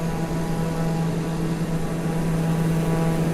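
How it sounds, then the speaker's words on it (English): Steady, loud drone of a small propeller plane's engine heard from inside the cabin in flight, with a constant hum and no break over several seconds. "I can't really hear you over the engine."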